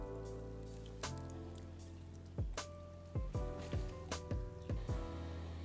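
Used red wine soup is poured out of a 35mm film developing container into a studio toilet, giving a run of dripping, splashing liquid pulses close by, with no talking.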